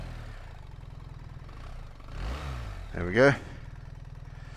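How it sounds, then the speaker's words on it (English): On a freezing morning, a cold BMW motorcycle engine cranks and catches with one brief rising rev, then settles into a rapid, clattery idle, close by, after a short spoken remark. "A little bit clattery when it's cold, this engine."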